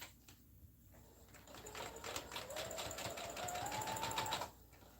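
A sewing machine stitches in a quick, even run of mechanical clicks that builds in speed and loudness before stopping, faint and close in a quiet room.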